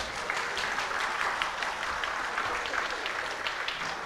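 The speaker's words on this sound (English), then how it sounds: "can we have a huge round of applause for all the panelists?" An audience at a climate change education plenary in India applauds the panelists, a dense, steady clapping from many hands that keeps going evenly for several seconds.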